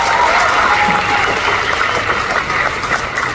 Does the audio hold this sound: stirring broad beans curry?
no